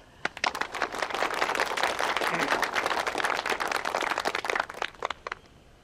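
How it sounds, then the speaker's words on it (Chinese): A crowd bursts into applause, many hands clapping densely and steadily before tapering off into scattered claps. "大家鼓掌"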